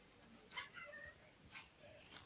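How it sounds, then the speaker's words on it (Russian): Small ginger kitten giving a few faint, high-pitched meows in quick succession, soft and close in a quiet indoor room. "А это еще один мой мини-котеночек."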